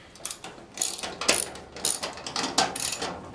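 A ratchet wrench clicks in quick, uneven bursts as it tightens bolts on a 1000 lb motorcycle lift. The close, sharp metallic ratcheting repeats several times with short pauses in between.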